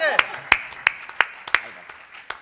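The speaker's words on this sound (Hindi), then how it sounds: "एक बार थोड़ी सी तालियां गहरी कर दीजिएगा राय साहब के लिए।" An audience claps in steady, evenly spaced bursts for a poet reciting Giridhar Rai's kundaliyan at a poetry gathering, with a voice sounding faintly at the start.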